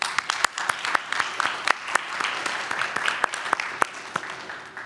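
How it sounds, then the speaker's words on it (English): A college senate audience breaks into a round of applause, dense steady clapping with sharp individual claps standing out throughout, fairly close and sustained for about five seconds. "Can we give them a round of applause,"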